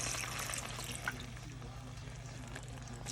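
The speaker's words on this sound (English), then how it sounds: "And I'm also going to add a little bit of water." Water is poured into a pot of simmering curry chicken, giving a steady, quiet splash and trickle under a low constant hum of kitchen background.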